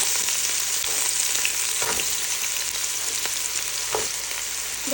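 Sliced onions and green chillies sauté in a hot pan for turkey biryani, giving a steady close sizzle broken by a few scraping stirs of a spoon.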